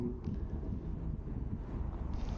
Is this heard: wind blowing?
yes